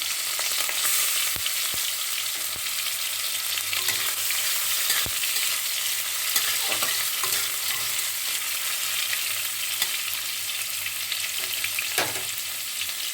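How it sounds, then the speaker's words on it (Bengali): Prawns frying in two tablespoons of hot oil while cooking kochur loti, a dense, constant crackling sizzle with occasional sharp pops and a few light stirs throughout. "আমার তেলটা গরম হয়ে গেছে চিংড়ি মাছগুলো দিয়ে দিলাম"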